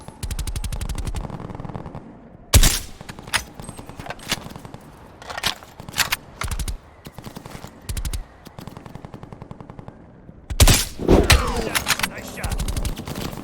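Gunfire in the Call of Duty Cold War campaign: loud, sharp single shots and short automatic bursts crack out at irregular intervals, some near and punchy, with a brief voice heard among the shots.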